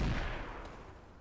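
Weapons fire in the mech combat video game Roguetech, a BattleTech mod: a loud burst of gunfire at the start, then a rumbling tail that slowly fades over about a second, with no talking.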